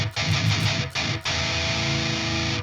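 Heavily distorted metal electric guitar run through a cabinet impulse response, a loud, dense chugging riff with a few quick palm-muted stops before a sustained held chord, no voices.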